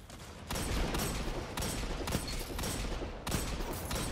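Video game gunfire in bursts of rapid shots, several dense volleys starting abruptly with short gaps between, fairly faint and without talk.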